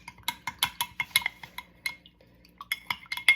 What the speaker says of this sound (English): we're going to go ahead and give it a stir for 30 seconds